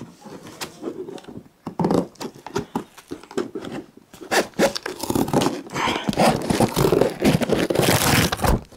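Comet 1200 MHz 23 cm antenna packaging being cut and torn open, with repeated crinkly, crunchy rips and scrapes of plastic and cardboard, close and fairly loud in irregular bursts that grow denser toward the end.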